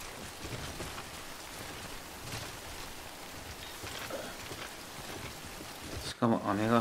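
Steady rain hisses across the whole stretch in the video game Death Stranding, a dense, even wash of falling water, cut off near the end by a short, louder burst of another sound.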